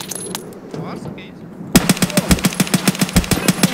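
Rapid automatic gunfire in a video game about SEALs raiding an abandoned lab, a sudden burst of evenly spaced sharp shots that starts partway through after quieter background sounds and keeps going loud and close.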